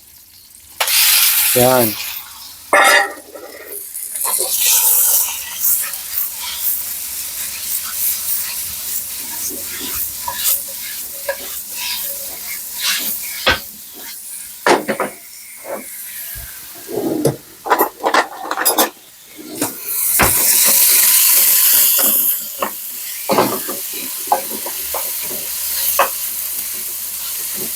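Beef frying with garlic in garlic oil, a loud continuous sizzle broken by stirring scrapes and bursts, with brief quieter gaps and a few spoken words.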